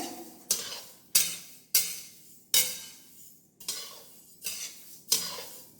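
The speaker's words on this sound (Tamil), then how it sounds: "தனியா வறுத்துட்டே இருக்குங்க" Coriander seeds dry-roasting in a pan while a spoon stirs them, producing regular sharp metallic scrapes about once a second, each fading into a soft rattling hiss, close and quiet.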